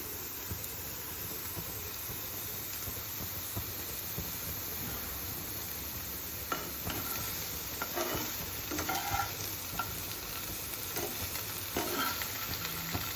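Paneer and onions fry golden in a kadai for kadai paneer, a soft, even hiss running throughout, broken in the second half by a few louder stirring scrapes and spatters.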